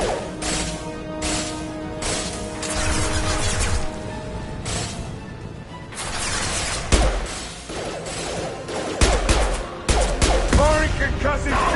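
Concussive shot and gunfire in the shooter video game Mass Effect 2: rapid bursts of weapon fire with sharp cracks and crashing impacts recur throughout, loud and close, with short gaps between volleys and no voices over them.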